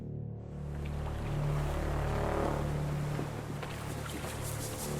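Open water washes and surges in the Of Ash & Steel game world, a low steady drone like a distant ship horn running underneath, the swell building in the middle and then easing.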